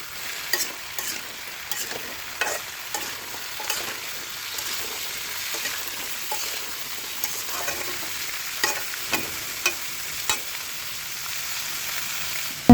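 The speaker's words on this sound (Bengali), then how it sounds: "এখন সব কিছু ভালো করে মিশিয়ে নেব।" Pumpkin pieces being stir-fried in a pan, with a steady low sizzle broken by regular scraping strokes of a spatula, close and moderately loud, with no voices.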